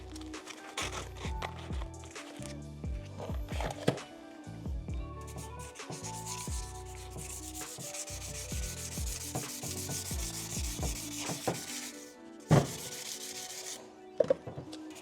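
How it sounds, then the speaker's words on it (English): Hand sanding of a car exhaust tip with 220-grit sandpaper during an HKS Hi-Power single exit exhaust install on a 2025 Toyota GR86, heard as steady close rubbing strokes in repeated back-and-forth rhythm, with a couple of sharp knocks near the end. "we want to start sanding this thing down"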